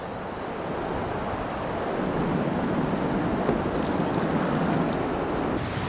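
A whitewater rapid on the Chattooga River near Dix Creek roars in a steady, dense rush of churning water, loud and continuous with no voices.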